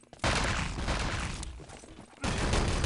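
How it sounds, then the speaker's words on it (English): Artillery fire in the Enemy Territory video game: two heavy bursts of booming explosions, loud and dense, with a short lull between them and no voices. "Artillery might get some frags here"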